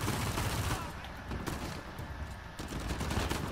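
Gunfire in the Uncharted 4 video game crackles in dense, overlapping bursts of shots aimed at the player, loud and continuous, with a busy noisy background and no clear talking.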